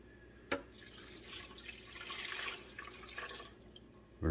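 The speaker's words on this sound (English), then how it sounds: "I'm just going to stick these in my blender with 2 cups of water" Water pours steadily into a blender for a few seconds, a soft splashing rush with a brief knock near the start and a thump at the end.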